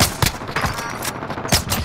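Rapid gunfire in a multiplayer shooter game, a flurry of sharp cracks and bursts arriving in irregular clusters, loud and close as rounds hit the player.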